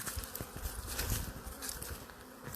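Houseflies buzz around an outdoor beehive during a hive check, a soft, steady insect drone with faint patter, continuous and low in level with no talking.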